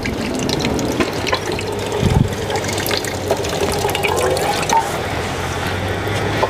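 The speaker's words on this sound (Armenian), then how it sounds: "գտնվում ենք Իծաքարից ներքև, աղսու տանող ճանապարհի վրա մի աղբյուրում" Water flows steadily from a roadside spring on a road below Itsaqar, a continuous splashing and trickling stream heard up close, with faint background hum and no speech.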